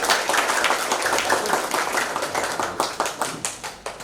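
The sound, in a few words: congregation applause, lively clapping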